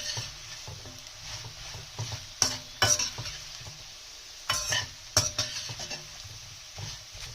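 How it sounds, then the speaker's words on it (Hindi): Half a teaspoon of cumin seeds fry slowly in oil in a pan over a medium flame, giving a steady soft sizzle broken by several sharp scrapes and clinks of a spoon stirring against the metal. "अब मैं इसमें ½ टीस्पून जीरा शामिल कर रही हूँ और हमें स्लो इसके साथ जीरे को भी फ्राई करना है।"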